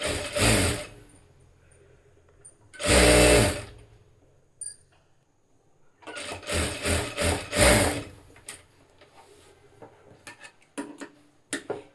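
A sewing machine stitches a fabric strip in several short, loud bursts of rapid mechanical chatter, with quiet pauses between runs and a few sharp clicks near the end.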